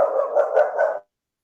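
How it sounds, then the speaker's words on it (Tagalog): A single dog barks up close in a short burst of about four quick, loud yaps lasting roughly a second, then silence. "Maingay yung aso."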